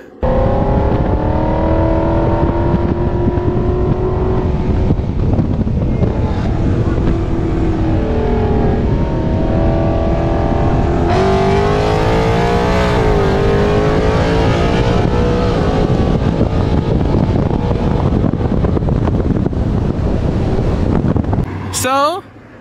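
A Ford Mustang GT and a BMW X3M drag race, with loud engines roaring and revving through gear changes over heavy wind buffeting, before cutting off abruptly at the end.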